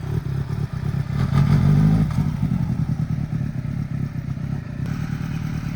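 A motorcycle engine revs in uneven bursts as a learner rider works the throttle, with a louder surge early on, then a rough idle with clattering and thumps nearby.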